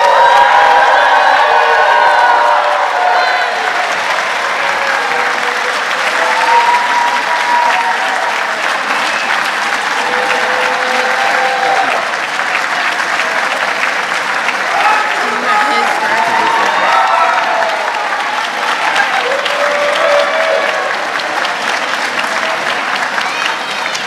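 An 8th grade commencement audience in a hall claps and cheers, a loud sustained wash of applause with scattered whoops and shouts running unbroken for over twenty seconds.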